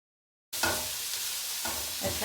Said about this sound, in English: You can hear that nice sizzling sound.